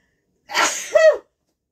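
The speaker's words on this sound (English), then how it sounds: "Hold on, I gotta sneeze." A single close, loud sneeze from a person in a home kitchen, a breathy intake followed by a sharp voiced burst, alone in quiet surroundings.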